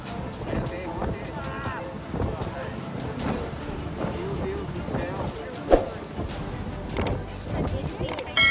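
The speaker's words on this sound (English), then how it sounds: "This Ozullinha's ATR 72-600 is almost being blown over in violent sandstorm." Violent sandstorm wind buffeting an ATR 72-600 turboprop airliner on the ground: a continuous roaring rumble with gusty surges and a few thumps, and voices may be faintly audible underneath.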